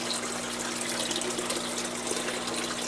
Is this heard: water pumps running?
yes